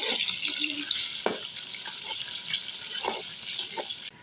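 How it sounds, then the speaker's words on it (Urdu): Bitter gourd and chicken fry in a pan with a bright, continuous sizzling hiss, close and fairly loud, broken by occasional scraping stirs and small pops; no one speaks. "اب ہم اس میں تھوڑا سا چکن ڈالیں گے اور چکن کو بھی اچھے سے فرائی کر دیں گے"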